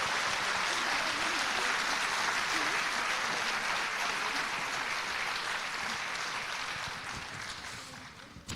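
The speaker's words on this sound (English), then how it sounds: "Let's give a round of applause for our first section of academic award winners." An audience at a senior awards program applauds academic award winners, a dense, steady wash of clapping that runs for several seconds before tapering off near the end.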